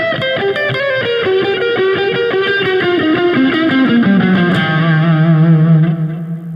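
A distorted electric guitar lick from a song's solo runs as a descending line of sustained notes into a long held low note, thick with effects and reverb, loud and alone.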